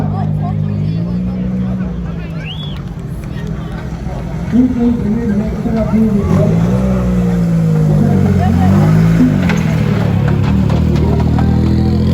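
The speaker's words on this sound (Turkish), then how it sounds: "Araç start aldı lütfen." A rally car pulls away at the opening of the 2025 Marmaris Aegean Rally, its engine rising and revving with a fluctuating tone, heard under crowd babble and talk from people nearby.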